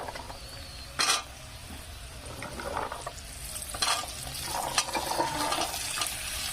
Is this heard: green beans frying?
yes